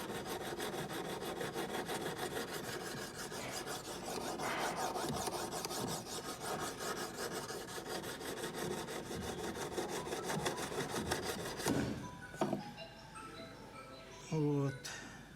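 A metal file rasps steadily across the blade of a Yakut knife to remove a nick, in continuous back-and-forth strokes for about twelve seconds. It then stops, followed by a few light clinks and brief vocal sounds.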